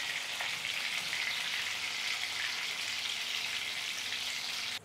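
Oil sizzles steadily in a kadhai, a dense, even crackle of frying that runs close and loud without pause and cuts off abruptly at the end.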